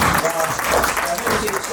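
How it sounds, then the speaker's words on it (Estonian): Applause from an audience at an award ceremony, a dense, continuous patter of clapping heard up close, with a voice speaking over it. "teeme ühe aplausi."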